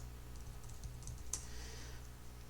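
Quiet computer keyboard typing with scattered soft key taps and one sharper click partway through, heard close over a faint room hum with no speech.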